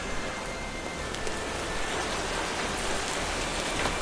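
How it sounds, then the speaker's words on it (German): Constant heavy rainfall in the video game Minecraft hisses evenly throughout, a thick wash of raindrops with no voices over it. "Außerdem regnet's."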